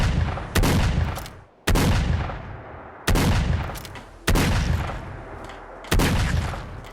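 Five heavy gunshots from a modded weapon in Fallout 4, each a sharp, loud boom with a deep bassy tail, fired at a slow, uneven pace with no voices.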